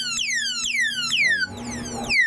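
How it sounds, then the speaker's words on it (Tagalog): A padlock's built-in anti-theft alarm shrieks after a light tap, sounding repeated descending electronic whoops in quick succession, loud and close, with a rattle of handling partway through. "Kahit matapik lang ng konti, mag-a-alarm na siya."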